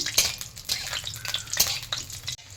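Food stirred in hot oil with mustard seed tempering and fried lentil dumplings in a pan for a spinach dish, with bursts of sizzle and scraping utensil strokes, close and fairly loud.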